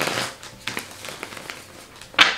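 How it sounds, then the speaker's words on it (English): Tarot cards are shuffled by hand in a series of quick papery riffles and crinkly flutters, close and moderately loud, ending in a sharper snap of cards. "This is a nice shuffle."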